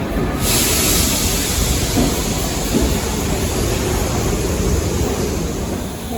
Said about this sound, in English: here's a steam train we're going to go on